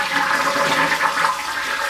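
Water draining steadily from a toilet tank after the supply valve has been shut off, a continuous close gurgling rush with no pauses and no talk.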